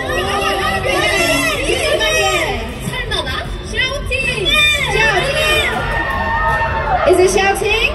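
Fans at a K-pop meet-and-greet shout and cheer together, a dense, loud crowd of high-pitched voices that rises in bursts and keeps going without a break.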